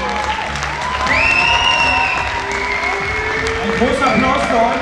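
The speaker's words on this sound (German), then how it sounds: "Großer Applaus für euch" An audience at a heavyweight men's bodybuilding championship claps and cheers steadily for the competitors, a dense crowd roar under a loud voice talking over a microphone.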